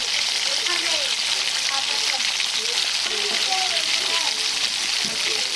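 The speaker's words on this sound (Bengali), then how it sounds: "এর মধ্যে কেটে রাখা সিম, কাঁঠালি বেগুন ও আলুকে ধুয়ে ভালো করে একে একে দিয়ে দেওয়া হচ্ছে" Flat beans, eggplant and potatoes fry in oil with dried chili in a pan, giving a steady, loud, close sizzle with faint bubbling and stirring throughout.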